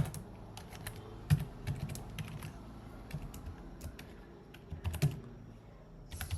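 Quiet, irregular bursts of keystrokes on a computer keyboard while code is written, with scattered clicks and short pauses, close by and with no talk.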